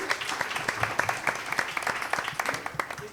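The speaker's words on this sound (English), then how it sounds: "Bigger round of applause, please." Audience applause at a college quiz competition's regional round, a moderate, steady patter of clapping hands lasting throughout with a faint voice underneath.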